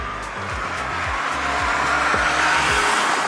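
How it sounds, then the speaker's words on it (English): A 2021 Tata Punch's small three-cylinder engine revs loudly and steadily climbs in pitch past about 4000 RPM, with a thin mechanical whine from the engine bay riding above the rumble. "you'll also hear a whine from the engine bay."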